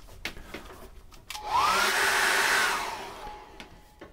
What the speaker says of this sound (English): I'm going to dry that off with a hairdryer.